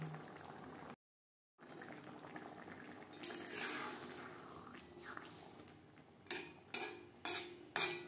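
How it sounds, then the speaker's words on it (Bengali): Fish curry with peas simmering in gravy on a gas stove, a soft continuous bubbling sizzle with a brief gap, then several sharp clinks of a utensil against the pan toward the end. "গ্রেভির সাথে মাছ বেশ ভালো করে মিক্স করে দেওয়ার পর 3-4 মিনিট রান্না করে নেব।"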